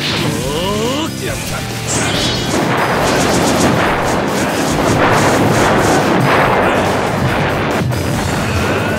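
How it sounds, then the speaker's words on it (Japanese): A big explosion roars with crashing, whooshing blasts and rumbling debris, loud and sustained over several seconds, in the Naruto Shippuden anime. "大爆発"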